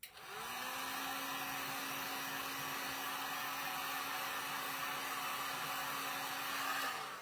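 Heat tool blowing hot air onto craft flowers for a mixed media skull, a steady close whooshing drone with a faint motor whine, running continuously from start to finish without talk.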